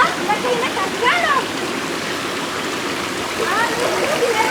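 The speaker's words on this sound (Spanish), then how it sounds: "Una cascada, dos cascadas." A waterfall on the Rio Grande pours in a steady, broad rush of falling water, close and continuous, while people talk excitedly over it now and then.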